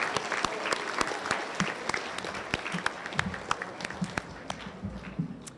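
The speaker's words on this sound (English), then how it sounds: "Can we have another round of applause for all students that achieved honor and high honor roll?" A crowd claps steadily at a school awards assembly for honor roll students, dense applause that thins toward the end with scattered individual claps.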